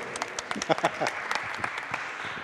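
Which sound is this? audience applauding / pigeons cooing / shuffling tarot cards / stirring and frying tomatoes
audience applauding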